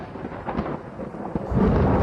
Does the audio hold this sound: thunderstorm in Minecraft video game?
yes